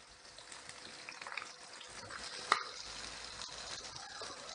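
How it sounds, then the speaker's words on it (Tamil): Onions for a brinjal fish curry sauté in a pan with a soft, steady sizzle, close and fairly quiet, broken by one sharp clink of a utensil partway through. "ஸோ ஆனியன் போட்டு நல்லா வதக்கிக்கலாம்."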